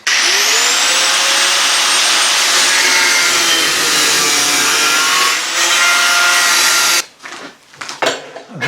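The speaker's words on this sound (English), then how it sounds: "Going to trim this a bit more to get a more even edge" A power tool trims the edge of a car body panel, its high, steady whine running loud and continuous for about seven seconds before cutting off into short, quieter bursts.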